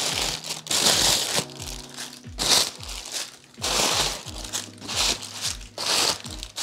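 Packaging paper crumples and crinkles loudly in repeated bursts while a Christmas gift is unwrapped up close, with short pauses between handfuls and no talking.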